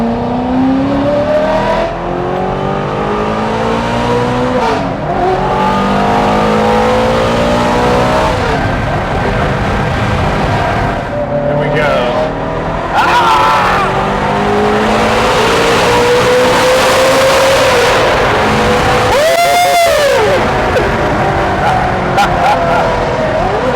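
A Ferrari F430 Scuderia with a manual gated conversion revs hard while accelerating on the road, its engine rising through gears with loud, sweeping pitch climbs and a sharp shift near the end, with voices talking over it.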